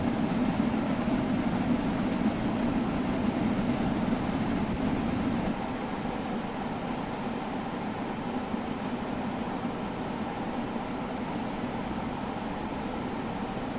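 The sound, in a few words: steam train running on rails, from video game Train Sim World 2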